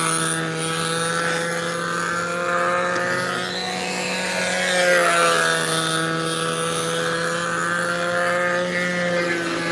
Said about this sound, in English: Get that plane down there.